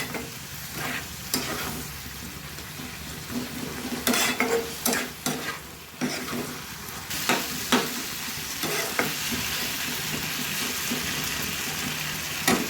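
Bhola fish curry masala with potatoes and a splash of water sizzles and fries in a pan while a spatula scrapes and stirs it, with irregular clinks and bursts of spitting over a steady hiss.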